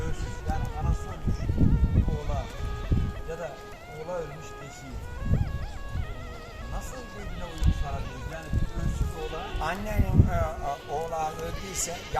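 Goats and kids bleat repeatedly on a livestock farm raising Honamlı breed goats, with overlapping calls near and far mixed among people talking.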